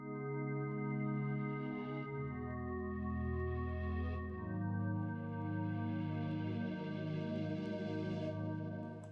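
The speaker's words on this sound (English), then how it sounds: "we have a pad from Vital and it sounds like this." A soft, sustained synthesizer pad from the Vital plugin holds slow, smooth chords that shift every few seconds in an amapiano beat, quiet and continuous with no voices.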